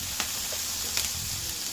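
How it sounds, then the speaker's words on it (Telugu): Dosa batter sizzles on a hot pan in a Hyderabadi-style home kitchen, a steady close hiss with a couple of faint clicks of utensil contact. "ఇప్పుడు మనం దోశ వేసుకుందాం."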